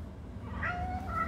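A house cat gives a single faint, drawn-out meow over a steady low background hum indoors.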